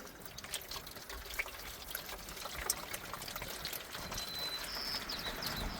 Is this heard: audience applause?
no